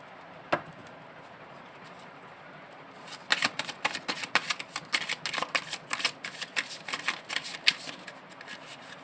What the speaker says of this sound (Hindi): एक बार एक शफल और कर लेती हूँ।